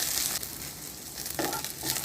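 Scallion and ginger frying in hot oil while being stirred, a close, steady sizzle with crackling bursts and a few scraping stirs near the end, no voices.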